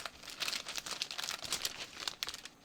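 Paper crinkling and rustling as a sewing pattern is folded to move a dart, soft and close, in a quick series of dry crackles lasting a couple of seconds, with no talk.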